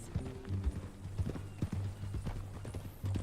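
Horse hooves clip-clop in Red Dead Redemption 2, a close, uneven run of hoof strikes that goes on throughout, with faint background sound.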